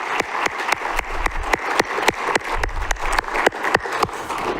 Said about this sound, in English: So just another quick round of applause for everybody